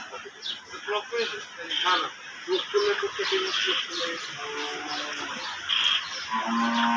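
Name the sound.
cattle mooing at a cow market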